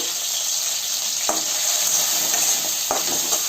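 Tomato, onion and curry leaves sizzle steadily in a hot pan as a spoon stirs them, with two sharp scrapes cutting through the continuous frying hiss.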